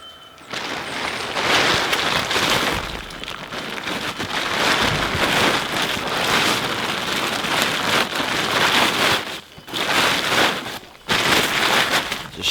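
Steady rain pours down outdoors beside a garden compost heap, a dense, continuous hiss of drops striking surfaces, loud and close, with brief dips in intensity near the end.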